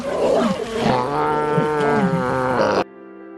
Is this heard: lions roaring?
yes